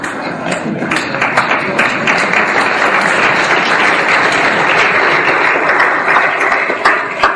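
Audience applause fills a lecture hall, a dense, steady wash of many hands clapping loudly for the whole stretch with no talk over it.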